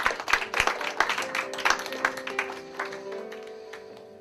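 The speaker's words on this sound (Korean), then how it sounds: "격려의 박수 드립니다" A church congregation claps in encouragement, a burst of dense, close hand-claps that gradually thins and fades, with a sustained musical tone entering beneath.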